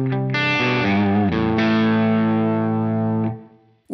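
A sustained electric guitar chord through a Line 6 Helix effects preset rings out with heavy distortion and effects, restruck a few times, then decays near the end.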